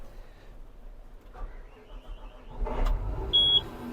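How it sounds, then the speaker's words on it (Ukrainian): A quiet hum, then a car engine with soot-related faults cranks and catches, rising into a steady running rumble, with a brief high whine of the turbo just after. "двигун запустився"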